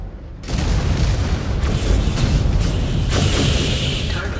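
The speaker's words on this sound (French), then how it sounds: "Exposed reactor. Explosion imminent." A mech's reactor exploding in the video game MechWarrior 5: Clans, a sudden loud, sustained rumbling blast with crackling debris that swells again near the end, filling the whole clip.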